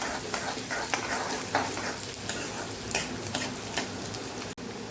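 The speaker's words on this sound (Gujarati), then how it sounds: "ડુંગળીને આપણે સરસ સાતળી લેવાની એકદમ બળી જાય એવી નથી સાતળવાની ગુલાબી કલરની થાય ને ત્યાં સુધી આપણે એને સાતળવાની છે" Onion sautéing in a pan for a methi and moong dish, an even close sizzle broken by regular spatula stirs and scrapes, with no speech.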